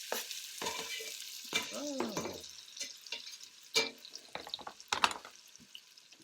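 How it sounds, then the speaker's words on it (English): Shallot and four cloves of garlic sizzling in meat drippings while making meatballs, with intermittent sizzle bursts and stirring scrapes, close and moderately loud, no talk. "we got a shallot and 4 cloves of garlic mix. I'm going to toss it in them drippings."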